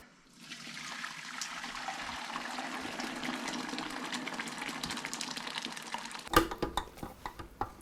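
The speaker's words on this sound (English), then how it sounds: "we're just going to go ahead and dump this into a bowl I have back here" Homemade cranberry juice with seeds is poured from a canning pot into a bowl, a continuous close liquid pour for several seconds ending with a few clinks and splashes.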